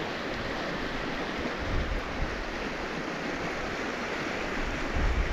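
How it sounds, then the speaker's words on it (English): Steady, broadband rushing of a fast-flowing river fills the scene continuously, loud and close, with no voices over it. "Water's moving fast."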